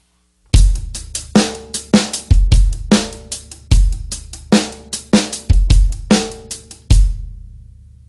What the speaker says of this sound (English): And now let's add the bass drum.